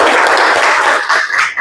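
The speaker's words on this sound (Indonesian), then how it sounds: "Oke, tepuk tangan untuk kita semua." A classroom group claps together after an icebreaker activity in a teacher training session, a steady dense burst of applause that holds for most of the moment and then thins toward the end.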